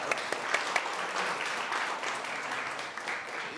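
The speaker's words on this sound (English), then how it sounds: "Let's give him a round of applause" A city council meeting audience applauds, a fairly faint, even round of clapping from the room lasting a few seconds, with a few sharper claps near the start.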